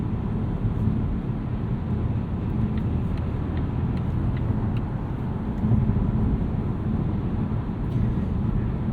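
Inside a 2019 Volvo S60 T6 R-Design at night, a steady broad engine and road roar holds throughout as the car accelerates to pass, with faint clicks over the drone and no talk.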